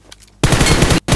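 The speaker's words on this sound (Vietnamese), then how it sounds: "Ôi, bên này có tiếng súng này." Burst of rapid automatic gunfire in a battle royale video game, loud and dense, a short pause and then more fire, starting abruptly after near silence.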